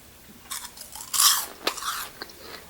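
Homemade kale chips crunch in several crisp, close bites, bursts of brittle crackling chewing spaced across a couple of seconds over near silence.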